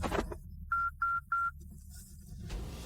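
Three short, evenly spaced electronic phone ring tones sound during a call, clear and moderately loud over a low background hum.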